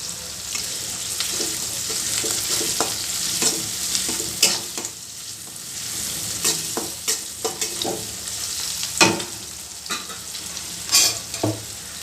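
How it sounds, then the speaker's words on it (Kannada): Onions frying with turmeric in a pan: a steady sizzle with scattered scrapes and clicks of stirring, close and moderately loud, no talking. "ಸ್ವಲ್ಪ ಕ್ರಂಚಿಯಾಗೇ ಇರಬೇಕು ಈರುಳ್ಳಿ ಈಗ ಇದಕ್ಕೆ ಅರಶಿನ ಹಾಕ್ತಾಯಿದ್ದೀನಿ"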